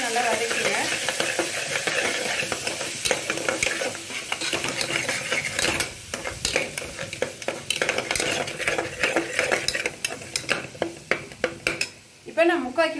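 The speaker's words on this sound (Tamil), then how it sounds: "அதையும் போட்டு நல்லா வதக்கிங்க." Spices and turmeric sautéing in oil for mutton chukka, a dense continuous sizzle with repeated scraping and clattering of a spatula in the pan, steady and close.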